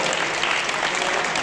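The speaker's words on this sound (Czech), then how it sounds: "náš potlesk se zaslouží Jakub Hrušek" An audience at a boxing event in Poděbrady applauds in a dense, even burst of clapping, loud and close, with no voices standing out.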